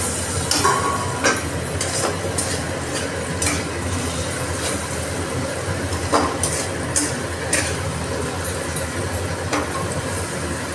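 Potatoes are stirred in a pan while they fry, a steady sizzle under repeated scraping and clattering strokes of the spatula, fairly loud and close, with no voices.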